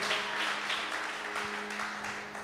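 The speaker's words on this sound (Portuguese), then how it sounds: "Quem pode aplaudir o Senhor?" A church congregation applauds together in a brief, steady burst of clapping, with a faint sustained tone underneath.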